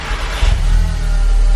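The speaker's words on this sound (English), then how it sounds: "So here's a cold start, okay?" A stock Volkswagen Mk7 Golf R fires up from cold, its engine catching with a loud surge partway through and settling into a steady, deep, close-up roar with strong low rumble.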